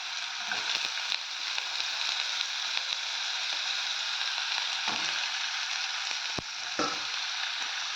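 A spoon stirs potatoes frying in a hot pan, giving a steady close sizzle with scattered scraping clicks and a few sharper knocks, with no voices.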